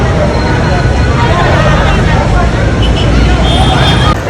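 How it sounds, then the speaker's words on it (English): Busy, noisy street traffic in Accra, Ghana: a dense, steady roar of vehicles mixed with crowd babble and distant voices, loud and close throughout. "Accra is noisy and busy and loud."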